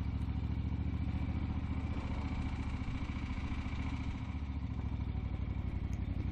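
A Moto Guzzi Eldorado motorcycle rolls along a gravel trail at low speed, its engine holding a steady, low, throbbing drone throughout with faint gravel clatter beneath, close and continuous with no talking.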